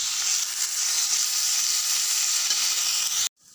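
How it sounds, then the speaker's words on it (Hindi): Ground spices hit hot oil with onions in a pan while making aloo matar paratha filling, giving a loud, steady sizzle and hiss that cuts off abruptly at the end. "अब मैं इसमें पिसे हुए मसाले डाल देती हूँ।"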